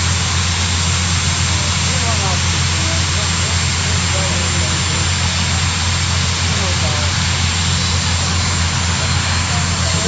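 A turbine-powered pulling tractor at a county fair tractor pull, its engine a loud, steady high whine that holds constant and fills the air, with people talking faintly in the background.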